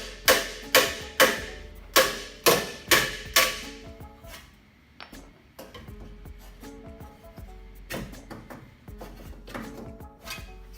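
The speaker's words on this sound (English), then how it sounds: "I'm just gonna hammer it out, see if it moves." Metal rings under a run of about eight steady hammer blows on a car part in an engine bay, then quieter clanks and scattered strikes follow, with a few more hits later.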